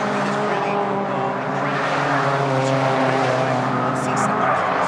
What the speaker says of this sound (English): You can see the cars literally sliding down on the exits